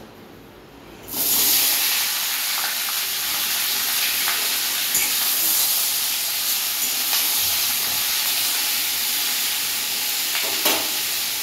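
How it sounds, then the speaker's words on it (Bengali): Potatoes and ivy gourds hit hot mustard oil in a pan and burst into a loud, steady sizzle that holds for about ten seconds, with faint stirring scrapes now and then. "এবার আমি ওই তেলের মধ্যে আলু আর কুঁদরিটা দিয়ে ভালো করে ভেজে নেব।"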